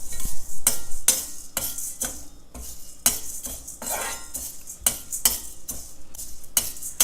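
Dry roasting of lentils and beans in a pan for idli podi, a spicy South Indian powder: a spoon scrapes and stirs the dry grains in repeated close, clattering strokes at a steady rhythm, with no talk.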